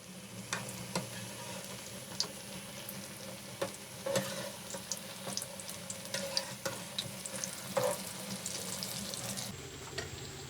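Potato kababs fry in hot oil on a slow flame, a steady close sizzle with frequent small pops and crackles, and a light clink of a utensil now and then; the frying continues throughout with no talking.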